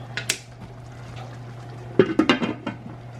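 A cooking pot being covered with its lid, a few close clattering metal knocks and a short rattle as the lid settles, over a steady low kitchen hum with soft utensil clinks before.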